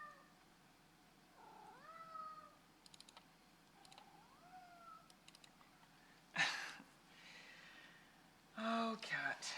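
A cat meows in a quiet indoor room, several rising calls spaced apart, followed by two louder, harsher yowls, with faint keyboard tapping in between.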